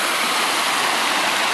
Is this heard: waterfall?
yes